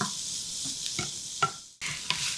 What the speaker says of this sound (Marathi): आता हे सगळे मसाले घातल्यावर फक्त दोन मिनिट आणखी परतून घेते